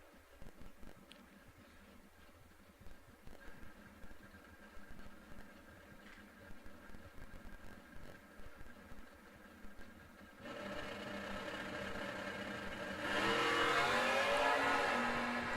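Drag racing launch of a 1971 Chevelle, a B-Stock automatic, with an engine roar that steps up abruptly and grows louder and steadier toward the end, after faint irregular bursts.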